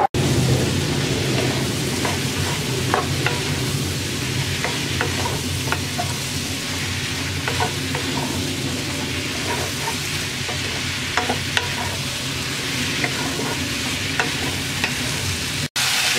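Okra (bhindi) fries in spiced masala over medium heat, giving a loud, dense, unbroken sizzle and crackle with occasional stirring clicks throughout.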